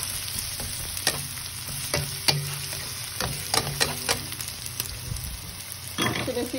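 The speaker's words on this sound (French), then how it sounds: "de l'ail ça a commencé à cuire, vous mettez des oignons." Garlic and onions fry in a pan for a Thai basil chicken stir-fry, making a continuous near sizzle. Irregular clicks and scrapes of stirring punctuate it, with a rougher burst of stirring near the end.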